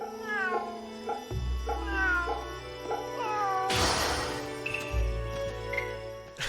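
A cat in the samurai-era action game Fate/Samurai Remnant meows repeatedly in short, rising calls over game music, with a brief noisy rustle midway before the meows resume.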